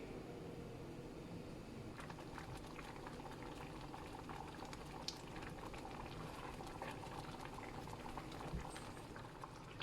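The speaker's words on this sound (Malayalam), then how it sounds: "ഇതൊന്ന് നന്നായിട്ട് തിളയ്ക്കണം" Dal simmering in a pot, a steady, dense bubbling boil that runs evenly throughout, close and moderately quiet with no voices.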